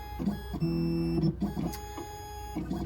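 An Ilco key cutting machine auto-indexes and cuts a key blank, giving a fairly quiet, steady motorized whir with sustained tones and short buzzing pulses close by.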